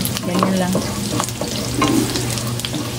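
Garlic sizzling steadily in hot oil in a pan for Bicol Express, with stirring scrapes throughout and a few brief spoken words.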